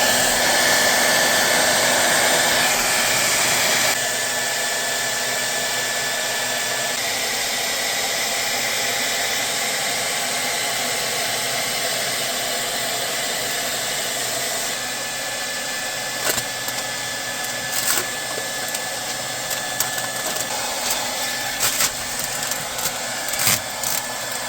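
A hair dryer blows steady, loud hot air at close range to heat and soften window tint film for removal, its continuous whooshing drone running throughout with a few faint knocks and handling noises toward the end.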